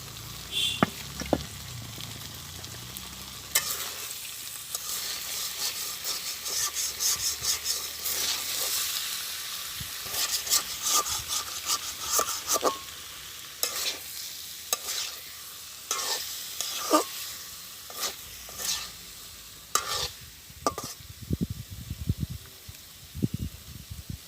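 Taro pieces frying in oil in a village kitchen pan for kochu bhaji, a continuous sizzle broken by repeated scraping stirs and clinks of the spatula, growing more percussive toward the end, no voices.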